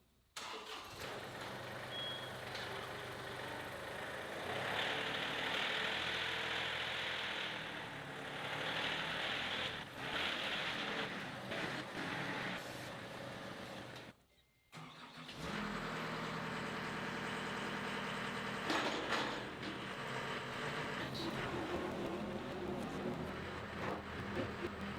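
A John Deere 325G compact track loader's diesel engine runs and revs steadily, loud and close, with a brief cut-out midway before rumbling on again at high load.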